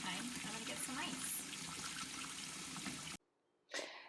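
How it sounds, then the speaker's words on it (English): Cold tap water running into a pot of boiled eggs, a steady close hiss and splash that stops abruptly near the end before a short burst resumes. "The cold water is going to be running on for just a couple of minutes to try and cool them down quick."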